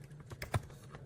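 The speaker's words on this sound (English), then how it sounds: "Type Ryan again." A brief burst of typing on a computer keyboard, a few soft, quick key taps close by in a quiet room.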